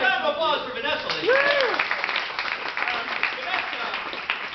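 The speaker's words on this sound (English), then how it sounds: "a round of applause for Vanessa, ladies" Live audience applause at a sketch comedy festival show in Toronto, a burst of clapping with cheers and whoops rising over it, loudest early and then tapering off, with voices in the crowd.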